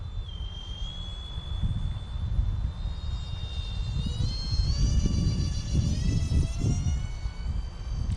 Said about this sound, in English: It's a fast little plane though.